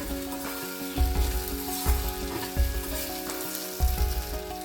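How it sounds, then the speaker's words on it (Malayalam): Squid pieces frying in hot oil for a Kerala-style kanava fry, with onion added, give a loud continuous sizzle and crackle, punctuated by four or five heavier thuds or stirs at roughly one-second intervals; no voices. "നമ്മൾ കണവ ഫ്രൈ ചെയ്യുമ്പോൾ ഒരിക്കലും എണ്ണയിലിട്ട് അതിനെ ഡ്രൈ ആക്കി കോരാൻ പാടില്ല."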